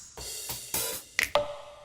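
Pre-selected drum loop playing in a beat-making session: a short run of crisp percussive hits with bright noisy transients, evenly spaced and ending in a sharper pair of hits, heard alone and fairly quiet.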